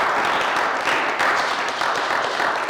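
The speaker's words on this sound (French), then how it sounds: "Est-ce qu'on peut applaudir pour la gloire de Dieu?" A church congregation applauds together, a dense, steady wash of clapping from many hands that fills the whole moment in a large room.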